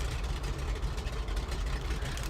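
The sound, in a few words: Grumman G-21 Goose engine in video game Flight Simulator X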